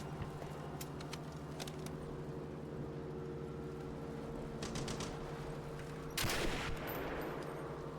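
Sniper gunfire in the video game Turning Point: Fall of Liberty: a few sharp cracks over a steady hum of game ambience, with one louder, brighter burst near the end.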